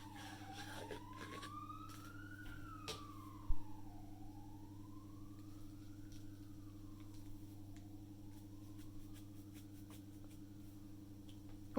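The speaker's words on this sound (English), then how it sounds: "There's sirens going in the background." A distant siren wails up and down in long slow sweeps over a constant low hum, with a brief thump partway through.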